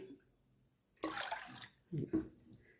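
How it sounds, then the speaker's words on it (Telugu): Water is poured into a pressure cooker holding dal for a sorrel spinach dal, a short splashing rush at close range followed by two brief sloshing bursts. "1 కప్పు పప్పు అయితే 2 కప్పులు నీళ్ళు పోసుకోవాలండి."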